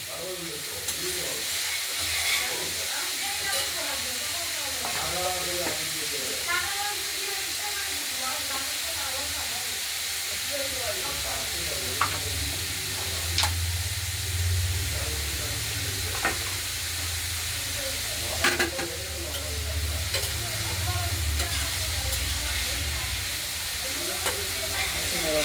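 Thin strips of beetroot and carrot fry in oil in a kadai with green chilli, giving a steady close sizzle and hiss with occasional stirring and spatula scrapes while someone talks over it.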